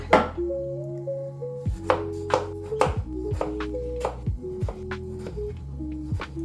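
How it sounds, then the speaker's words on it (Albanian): A knife cuts peeled potatoes into pieces on a board while cooking Albanian green beans with meat, with a run of quick, sharp taps under steady background music. "patate dhe do t'i grim në copë."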